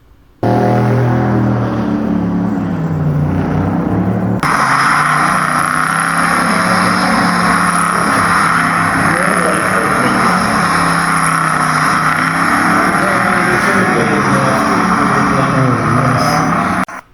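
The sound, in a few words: Factory Five kit car engine revving loudly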